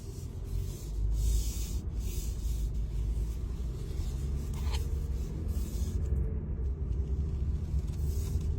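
A 2026 Honda Passport SUV with a 3.5 liter V6 and 10-speed automatic pulls away gently in drive, a steady low engine and road rumble that swells slightly after the first second and holds smooth and even throughout.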